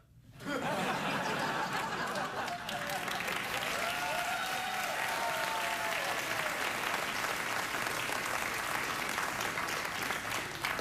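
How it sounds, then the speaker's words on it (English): Studio audience at a late-night talk show applauding, a sustained, loud wash of clapping with scattered chuckles and laughter mixed in and a host's voice faintly under it. "Thanks, audience, for applauding."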